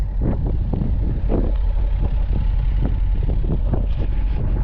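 A 2009 Dodge Charger SRT8 with a 6.1-liter engine and aftermarket exhaust idles steadily, a low continuous rumble with faint rhythmic pulses and some wind buffeting, close and alone.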